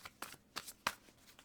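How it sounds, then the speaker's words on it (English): Tarot cards are shuffled by hand in a few quick, crisp riffling bursts, close and light, with short pauses between the slaps and flutters. "Let's shuffle."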